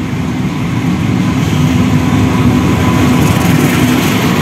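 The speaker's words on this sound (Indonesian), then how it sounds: "Ini dia kereta Argo Wilis sudah tiba di Yogyakarta" Argo Wilis passenger train pulling into Yogyakarta station, a steady, loud low rumble and engine drone with rail noise that holds constant throughout, no voices.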